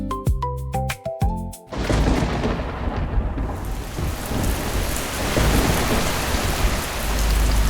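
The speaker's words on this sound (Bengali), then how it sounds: "তো বৃষ্টি নেমে গেছে" Rain pours at a beach resort in Mandarmani, a steady loud hiss with low rumbling thunder, following a few seconds of music at the start.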